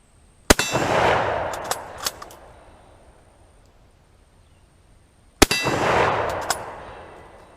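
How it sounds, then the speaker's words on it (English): Two sharp 8mm Mauser rifle shots from a Kar98K, fired at night, each followed by a ringing metallic clang off an angled steel target, spaced several seconds apart with quiet between. "For anyone concerned that I'm firing steel core ammunition at a steel target, I do have it angled appropriately"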